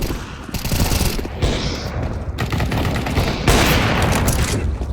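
Gunfire in Counter-Strike 2's arms race mode, loud dense bursts of rapid automatic shots with booming impacts, continuous for several seconds with no speech.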